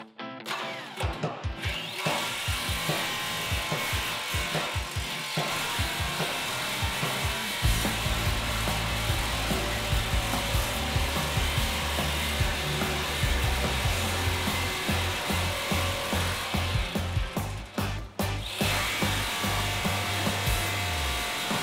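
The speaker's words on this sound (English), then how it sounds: "I'm gonna cut these shorter runs, the metal blade and the jigsaw" A jigsaw fitted with a metal blade cuts short runs of metal for a DIY cement-mixer compost and soil sifter: a loud, steady, buzzing saw drone running almost continuously, with brief stops and restarts near the start and end.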